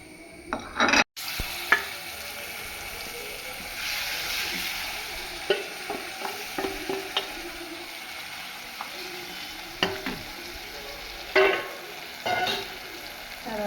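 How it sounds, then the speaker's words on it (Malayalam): Coated koozhuva fish fry in a pan with a steady, moderate sizzle, punctuated by scrapes and stirring knocks of a utensil close by. "ഞാനിത് തിരുമ്മി വറക്കാൻ വെച്ചേക്കുന്നത്"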